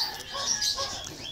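A hand-fed Lutino cockatiel gives short, bright chirps and whistly calls, close by and moderately loud, in a quick run of notes.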